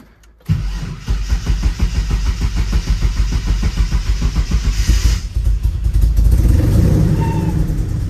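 Mitsubishi 3000GT with new long-tube headers cranks for a moment, then catches and roars to life, settling into a loud, throbbing, slightly uneven idle close by.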